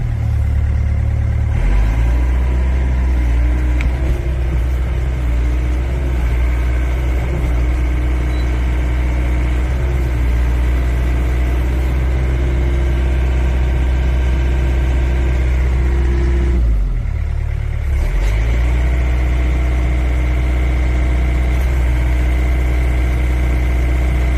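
A Hyundai R55 excavator engine runs at raised RPM with a loud, steady low-frequency drone and a brief dip in revs midway, close up with no talk.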